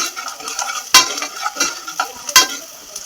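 Onions sizzle steadily in a pan, with sharp clinks and scrapes of a spoon against the metal punctuating the frying about three times, close and alone with no talk.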